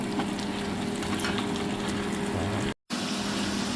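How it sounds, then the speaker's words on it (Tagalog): Garlic, onion and ginger sauté in a pan for a Filipino beans and leafy greens dish, giving a dense, steady sizzle with a brief dropout near the end; no one talks. "So I saute that one with garlic, onion, and ginger."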